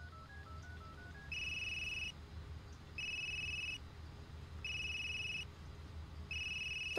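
Phone ringing tone from a call placed in the horror video game Unheard: four evenly spaced electronic ring bursts, each about a second long with gaps between, over a low background hum.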